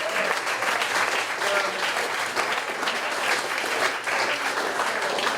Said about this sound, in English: Yeah, please give him applause